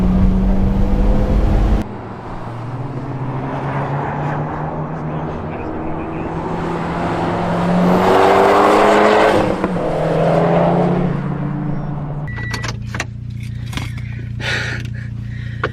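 A Mitsubishi Evo X on a track day, heard from inside as the engine drones, rises and falls through gear changes for most of the stretch, with wind and cabin noise and a brief burst of clatter near the end.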